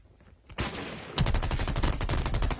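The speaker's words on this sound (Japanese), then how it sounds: "ああ、後ろから撃たれてるわ。" Rapid automatic gunfire in the mobile shooter Call of Duty Mobile, a quiet lead-in followed by dense, sustained bursts of shots that run to the end, loud and close.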